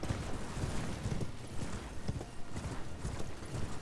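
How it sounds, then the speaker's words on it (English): Hooves of a horse galloping in the Elden Ring video game, a quick repeating clatter of impacts at a moderate level, steady and uninterrupted for several seconds. "My horse is a rock climber."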